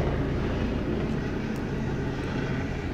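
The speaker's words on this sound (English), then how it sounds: "I hope you guys can't hear that helicopter." A helicopter passes overhead, heard as a steady, loud, broadband rotor and engine rumble that fills the whole stretch without pause.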